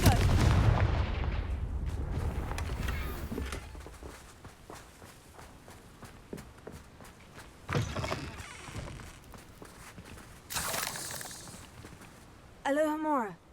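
A Confringo fire spell blasts in Hogwarts Legacy, with a loud whooshing burst at the start, scattered impacts and footsteps, then crackling bursts later and a warbling magical effect near the end.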